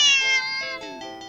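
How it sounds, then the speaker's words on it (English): A video-game cat gives a sharp, drawn-out meow, a single close and clear tonal cry that bends downward as it fades. "the cat meows sharply at you"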